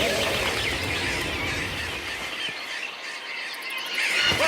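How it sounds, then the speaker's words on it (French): Dense, chirping calls of a huge flock of birds outside in an animated winter scene form a steady wash of sound, with light high-pitched tweets throughout. "Ces oiseaux sont tellement nombreux qu'ils nous cachent le soleil!"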